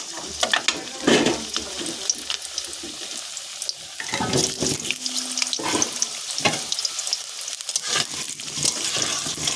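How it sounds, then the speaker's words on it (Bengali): Sliced potatoes sizzle and fry in hot oil in a home kitchen, a steady crackling hiss broken by louder bursts of spattering and stirring, close and without speech. "আলু দুটো আমি সুন্দর করে ভেজে নেব"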